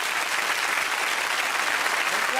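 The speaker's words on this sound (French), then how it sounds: "Je vous demande d'applaudir et de remercier Brigitte Bardot." An audience at an evening event applauds warmly, a dense, even wash of many hands clapping at a distance, steady and fairly soft throughout.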